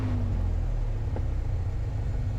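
A light aircraft piston engine runs at idle during pre-takeoff checks, a loud, steady, close low rumble with a faint tonal hum and no break throughout.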